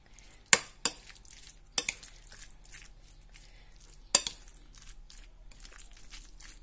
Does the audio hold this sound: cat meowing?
no